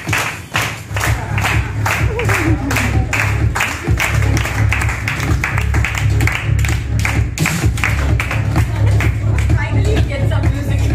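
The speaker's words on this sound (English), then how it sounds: "so let's clap to the product and for this product" Sustained audience clapping at a hair brush product launch, a steady dense patter of many hands close by, continuous and fairly loud, with faint voices underneath.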